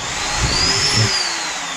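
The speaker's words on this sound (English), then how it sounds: "what we're going to do now is drill those holes out a little bit bigger" A power drill enlarges pre-drilled holes in a backyard boat-building project, a loud, steady high-pitched whine held close up with a slight rise and fall in pitch as the bit cuts.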